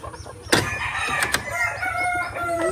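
Laying hens in a backyard coop cluck and chatter close by, while a rooster lets out a crow over the continuous farmyard murmur.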